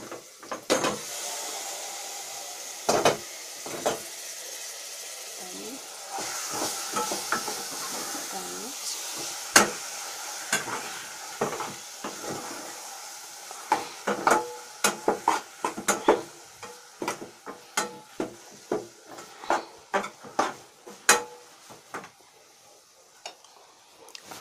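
Green vegetables with tomato fry in a hot pan, a soft sizzle broken by frequent sharp clicks and scrapes of stirring against the pan, with a voice talking in places.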